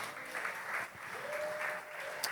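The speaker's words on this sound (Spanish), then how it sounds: "¿Cuántos lo creen y le dan un fuerte aplauso a Jesús?" A congregation at a church service claps loudly and continuously, a full, steady burst of applause filling the room with a faint sustained tone under it.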